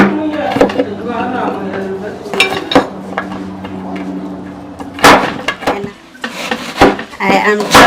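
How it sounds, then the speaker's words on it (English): A knife chops onions on a cutting board in irregular clusters of sharp taps, close by, with a person talking between and over the chopping, outdoors in a village kitchen. "chopping my onions"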